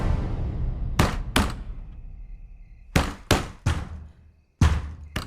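A fist pounds hard on a locked door in a tense film scene: two heavy blows, a pause, a rapid triple knock, then one more loud thud, booming and close with no talk.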